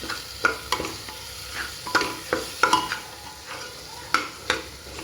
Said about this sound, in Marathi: त्यानंतर तो मिक्स करून घ्या, चांगला परतून घ्या.